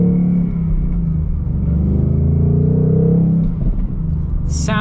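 A deep, loud Ford Mustang Bullitt engine idles and revs with a throaty rumble close by, pitch rising and settling, ending with a brief higher whine.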